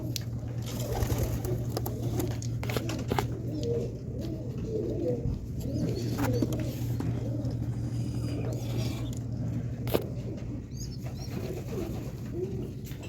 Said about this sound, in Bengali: এইদিকে সবগুলো পায়রার খোপগুলোতে দেওয়া হয়ে গেছে শুধুমাত্র এই সুলতানের খোপটাতে দেওয়া হয়নি